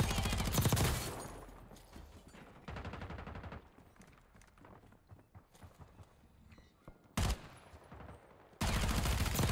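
Bursts of rapid automatic gunfire in Warzone, dense rattling volleys that come and go with quieter gaps between them and end in a loud close burst.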